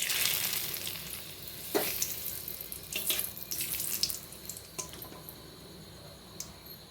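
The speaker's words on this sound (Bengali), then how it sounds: "কড়াইতে দিয়ে নেওয়া হয়েছে আরও একটু সাদা তেল, এর উপর দেওয়া হচ্ছে তেজপাতা" Bay leaves sizzling in white oil in a wok while mixed fried rice is cooked: a steady close frying hiss with a few sharper clinks and stirring noises.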